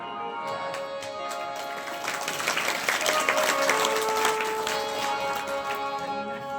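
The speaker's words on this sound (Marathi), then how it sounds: "त्यांनी सारखी टाळी वाजवली पाहिजे" An audience at a Shiv katha in Apsinga, Tuljapur claps steadily in dense, continuous applause that swells in the middle and carries on to the end.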